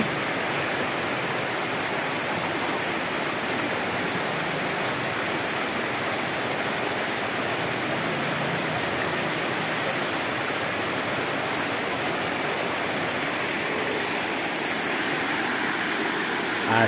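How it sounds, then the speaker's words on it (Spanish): Meléndez river flowing at Puente de la Fonda in Villa Carmelo, its water somewhat low, a steady broadband rushing roar that stays constant and close for the whole stretch, with no speech. "Así es el río Meléndez, está perdiendo un poco el caudal de aguas"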